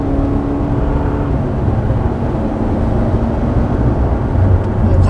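An 8th-generation Toyota Camry gasoline sedan accelerating, heard from inside as a steady engine hum and road whir rising slightly over several seconds, with a low tone shifting early on.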